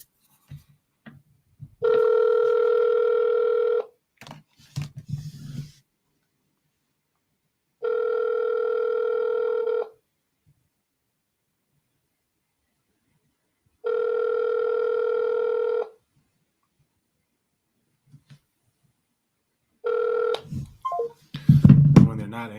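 Telephone ringing tone from an outgoing cold call: three long, evenly spaced electronic ring bursts, each about two seconds, separated by silence, with faint movement noises between and a brief rustle near the end.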